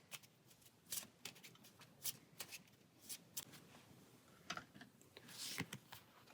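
Playing cards riffled and shuffled at a tabletop session of the Pathfinder Adventure Card Game, Curse of the Crimson Throne, heard as a series of quick, crisp riffling bursts close up with a few faint soft sounds between, no talking.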